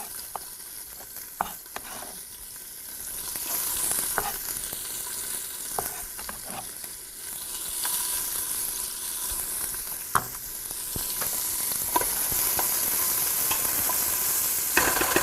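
Vegetables fry in a pot over medium-high heat, a steady close sizzle broken by sharp clicks and scrapes of a utensil stirring against the pot, with no talking.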